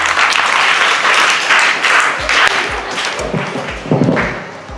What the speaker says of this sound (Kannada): ಇವ್ರಿಗೆಲ್ಲ ಚಪ್ಪಾಳೆ ಹೊಡೀರಿ